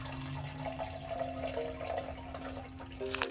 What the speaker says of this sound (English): I'll take this cup, right, of water, and I actually just fill it with water